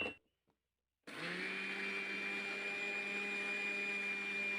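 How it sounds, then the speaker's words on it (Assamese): An electric mixer grinder whirs loudly and steadily as it powders a cup of sugar, starting abruptly after a brief quiet moment and holding a constant high-pitched motor whine. "এইখিনি মই এতিয়া মিক্সিত গুড়ি কৰি ল'ম"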